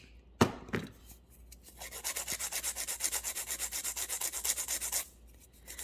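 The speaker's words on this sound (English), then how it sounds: "then file it down again" A metal file rasping against trimmed round jewelry wire, close and quiet: a couple of sharp clicks, then a steady run of about twenty quick rhythmic strokes before stopping.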